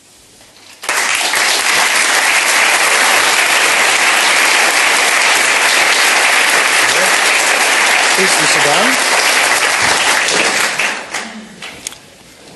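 A studio audience breaks into loud, sustained applause for the pianist at a 1984 Amsterdam interview, swelling abruptly and holding for about ten seconds before fading as someone speaks.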